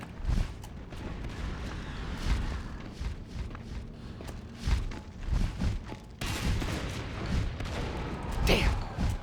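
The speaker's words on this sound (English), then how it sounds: "That's a shotgun." Shotgun blasts ring out in Natural Selection 2, several heavy booming shots at irregular intervals amid chaotic combat noise. Footsteps and other gunfire mix in throughout, with a louder cluster of shots toward the end.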